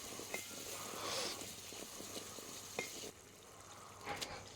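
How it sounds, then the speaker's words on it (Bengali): Spices for a cabbage curry sizzle softly in a pan, with faint scraping and stirring clatters over a low, steady frying hiss. "আবার একটু নেড়ে দিচ্ছি।"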